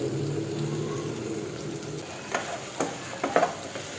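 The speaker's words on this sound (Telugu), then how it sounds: "మొత్తం అన్నీ కూడా గీలోని బాగా ఫ్రై అయిపోవాలి." Food frying in ghee with pink salt added, a soft steady sizzle with a few sharper crackles and stirring clicks near the end, close and alone.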